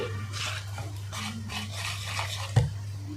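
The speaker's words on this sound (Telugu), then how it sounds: "కొద్ది కొద్ది వాటర్ యాడ్ చేసుకుంటూ కలిపేసుకోండి" A spoon stirs and scrapes through boondi batter in a bowl as water is added a little at a time, giving repeated rhythmic swishing strokes over a steady low hum, with one sharp knock near the end.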